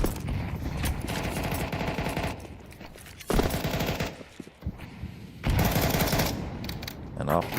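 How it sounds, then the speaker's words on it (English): Rapid automatic gunfire in the video game Counter-Strike, rattling bursts with brief lulls between them and a sharp, loud return of firing midway, as though from a fast-paced competitive match. "You can just hear the bullets whiffing by."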